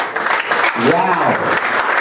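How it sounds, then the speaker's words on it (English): Audience applause fills a stunning event venue, a broad steady wash of clapping with a voice speaking over it midway. "Please clap your hands for Tom."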